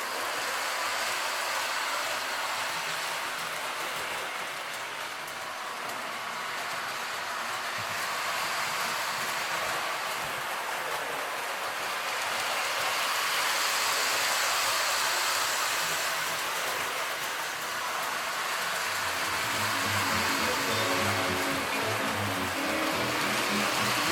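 A small Lionel Blue Streak electric toy train whirs and rattles continuously along its track, a light mechanical hum with clicking wheels, rising and falling as it passes.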